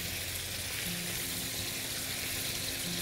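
Meat searing in a hot pan for rice with vegetables and kebab, a steady, even sizzle with a faint low hum underneath, close and continuous without talk.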